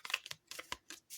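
A few soft, crisp riffling taps as a deck of oracle cards is shuffled by hand, quiet and close, in short uneven bursts with brief pauses and no talk.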